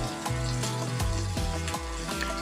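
Potato and semolina burger patties fry on a tawa with a steady, close sizzle, and faint stirring or tool clatter sits under background music, with no voice.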